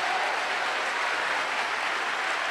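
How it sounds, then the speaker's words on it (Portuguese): Church congregation at a women's worship service applauds, a dense, steady wash of clapping from many hands that holds evenly throughout. "Então aplaude com vontade."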